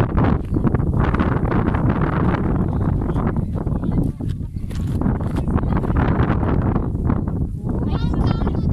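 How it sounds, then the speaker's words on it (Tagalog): Strong wind buffets the microphone in constant gusty rumbles on Castle Peak, Hong Kong, with people talking over it outdoors. "Hangin."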